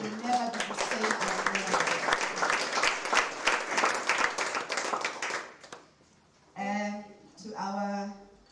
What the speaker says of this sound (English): Clap for yourselves for coming